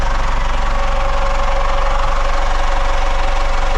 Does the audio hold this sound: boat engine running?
yes